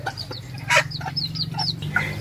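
Chickens on a Vietnamese poultry farm, including a white rooster and a yellow hen with chicks, give several short clucks and sharp calls scattered over a steady low hum, close and fairly clear with no talking.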